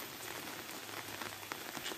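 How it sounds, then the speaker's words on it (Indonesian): Steady rain falls as a continuous dense hiss of drops on surfaces, fairly faint and even throughout with occasional louder spatters, and no voices. "Jeung mah hujan."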